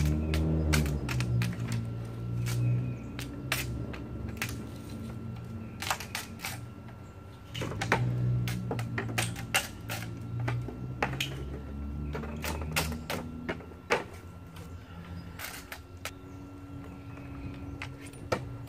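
Bamboo being cut for a hoop cold frame gives a series of sharp, irregular cracks and snaps over a low rumbling background, close and moderately loud, with no speech.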